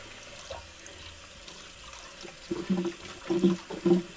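Tap water runs into a kitchen sink as coriander is rinsed, a steady stream that splashes more loudly in uneven bursts toward the end; no speech.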